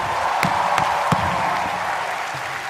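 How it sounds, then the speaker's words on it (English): A comedy roast audience applauds two Bollywood actors, Ranveer Singh and Arjun Kapoor, with steady dense clapping that holds at full strength for a few seconds with no talk. "please give a huge fucking round of applause for Ranveer Singh and Arjun Kapoor"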